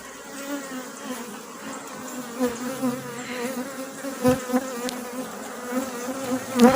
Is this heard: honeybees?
yes